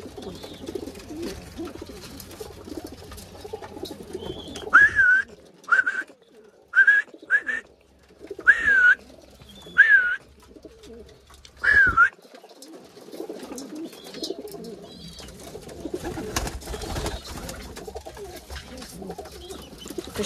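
Pigeons coo in short soft phrases from a crowded loft cage full of young birds, about half a dozen calls spread across the middle, with quiet rustling and faint background noise around them.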